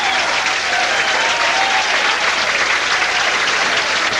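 Crowd applauding at a bowling tournament after a third strike in a row: loud, dense, steady clapping and cheering that fills the whole stretch without letup.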